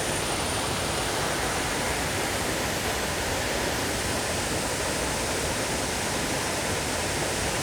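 The seasonal Achankallu waterfall in Kasaragod roars during the monsoon, a loud, steady, close rush of falling water that fills the whole scene without a break.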